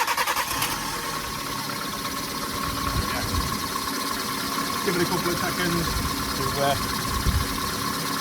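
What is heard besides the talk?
Kia Rio engine starting and idling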